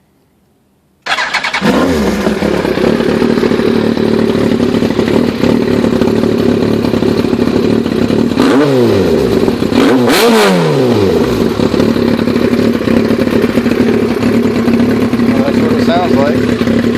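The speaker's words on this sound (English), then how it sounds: "I'm gonna move the bike and start it up for you and let you hear the exhaust" A Yamaha R1 sport bike fitted with a Coffman exhaust starts up close by, then settles into a loud, steady idle broken by a few sharp throttle blips that rise and fall.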